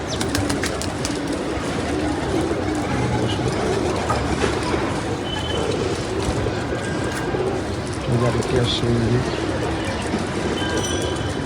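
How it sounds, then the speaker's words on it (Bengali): Pigeons coo softly while descending to land, with a steady noisy outdoor background and a faint rumble like a passing train underneath. "আস্তে আস্তে এই যে আরেকটা আমাদের আসছে"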